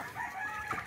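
A Rhode Island Red chicken gives a short, nasal, drawn-out clucking call close by in a backyard poultry yard with turkeys and ducks. It lasts under a second and no one talks.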